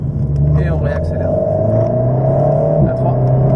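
An Alpine car accelerating on a race circuit at Dreux, its engine note climbing steadily in a loud, close, sustained drone with a brief dip near the end as it shifts, while a driving instructor talks over it.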